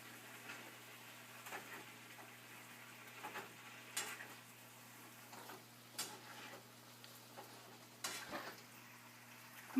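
Stir-fry vegetables tossed together in a pan, faint soft sizzling with light scraping and occasional clinks of a utensil, quiet and intermittent, with no speech.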